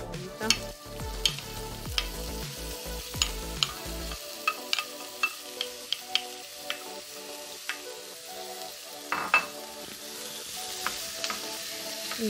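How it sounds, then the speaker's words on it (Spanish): Chopped onion frying in a pan with garlic that is already nearly golden, a steady soft sizzle with repeated scraping and stirring clicks, close and moderately quiet, no voices. "Y aquí dejamos hasta que se fría bien la cebollita."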